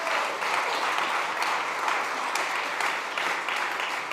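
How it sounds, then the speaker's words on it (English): Sustained round of applause from a conference audience at a food summit at SXSW 2025, a thick, even wash of clapping holding steady for several seconds with no talk over it. "round of applause."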